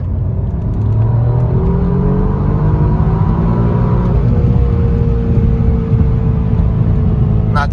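A 2017 Alfa Romeo Giulia Quadrifoglio's engine and intake roar rise steadily as it accelerates from about 60 km/h in third gear with a K&N air filter fitted, a loud, close drone climbing in pitch over several seconds.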